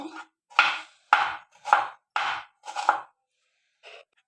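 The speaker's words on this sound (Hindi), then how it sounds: "अब प्याज को काट लेते हैं। लंबाई में काटना चाहें तो लंबाई में, पतला पतला बिल्कुल काटेंगे इस प्रकार से।" Thin lengthwise slices of onion are cut with a knife, giving six crisp, evenly spaced chops in a steady rhythm, close and clear with a pause before one final softer cut.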